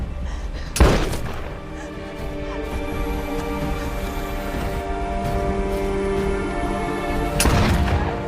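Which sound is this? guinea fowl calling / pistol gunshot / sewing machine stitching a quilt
pistol gunshot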